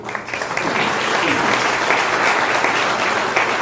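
A crowd at a Spanish Chamber business lunch in Salvador breaks into a loud, dense round of applause that holds steady and close throughout.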